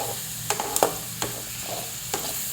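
Onions and green chilies frying in oil in a pot for a village-style soup, with a steady low sizzle and a few sharp scraping stirs of a spoon scattered across it, close and moderately quiet, no talk.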